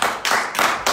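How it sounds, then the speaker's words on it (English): Clapping in a talk-show studio setting, with bursts of hand claps coming in short waves, loud and close, filling the brief moment without any voice over it. "you have to give them a round of applause from your end"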